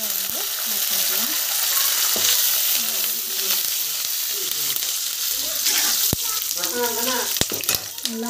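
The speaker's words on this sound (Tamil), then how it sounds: "நல்லா வந்து வதக்கிட்டுக்கோங்க." Curry leaves and chillies sauté in hot oil for puliyodarai tamarind rice, a steady close sizzle with scattered crackles and pops, and someone talks over the frying at times.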